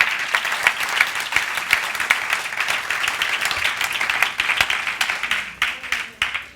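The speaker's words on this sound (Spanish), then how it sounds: "Dele palmas al Señor con todo su corazón" A church congregation claps in praise during a Spanish-language sermon, dense rapid hand claps in a steady wash that holds strong before thinning toward the end, with no speech over it.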